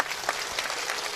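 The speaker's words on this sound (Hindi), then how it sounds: "जरा ताली बजाओ।" Audience at a religious discourse gathering clapping, a brief burst of dense, even applause at moderate distance.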